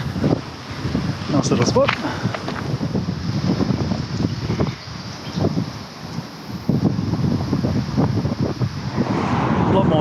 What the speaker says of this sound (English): Oh, it's really windy now.